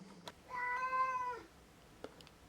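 A cat gives one drawn-out meow at close range, with a few faint clicks before and after and no talking.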